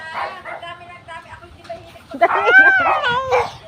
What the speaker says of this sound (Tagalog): May aso guys for today's video.